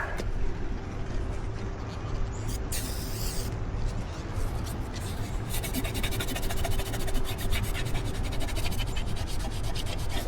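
A red Scotch-Brite pad scrubs a windshield during a 2023 Honda Passport windshield install, giving a continuous, close, loud abrasive rubbing with a brief sharper burst partway through.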